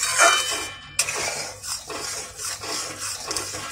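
A spoon stirs roasted semolina into boiling milk in a pot for sheera, with repeated scraping and clinking close by and a few brief sharper knocks.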